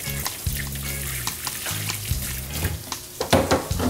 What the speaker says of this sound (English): Let me wash my hand really quick.